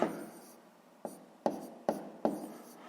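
Pen or pencil writing numbers on paper during a sixth-grade maths exercise: a soft scratchy rub followed by four short, crisp strokes tapped down at a steady pace, close and quiet, with no talking.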